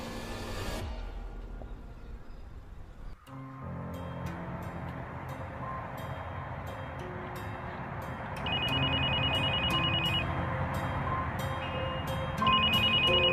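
A telephone rings in two clear bursts partway through, over a quiet, hissy room background with no talking.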